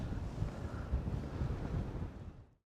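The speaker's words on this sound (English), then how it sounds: "Oh, it's quite breezy actually." Breezy wind buffets the microphone at a paragliding site, producing a steady low roar with gusty swells that drops away abruptly into silence near the end.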